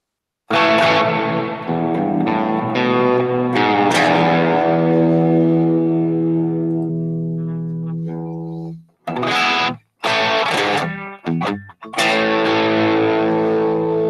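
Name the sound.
guitar through screamer distortion and chorus on Line 6 HX Stomp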